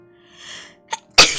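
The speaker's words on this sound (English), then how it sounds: "I gotta sneeze again." A single human sneeze, preceded by a soft inhaling buildup and a small catch, then a sharp loud burst close to the microphone.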